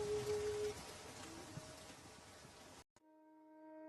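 Steady rain falls continuously on a cold night, a dense even hiss that stops abruptly near the end, leaving a faint tonal hum.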